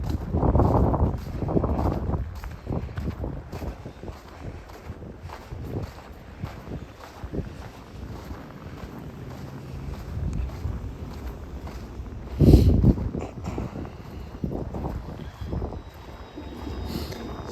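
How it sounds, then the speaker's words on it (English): Wind gusts outdoors near a lake in a downtown area during the year's first snowfall, a continuous broadband roar with surging gusts, buffeting the microphone up close and swelling sharply once. "And that wind's picking up, of course."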